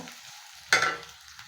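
Okra (ladies finger) frying in a hot pan gives a brief sizzling hiss as it is stirred, one short close burst in an otherwise quiet moment.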